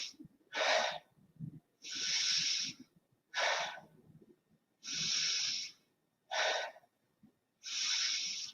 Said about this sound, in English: Into the nose, out the mouth.